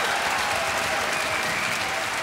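Concert audience applauding a symphony orchestra, a dense, loud, continuous roar of clapping filling the hall.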